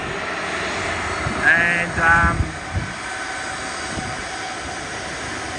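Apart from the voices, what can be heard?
airliner jet engines at Sydney airport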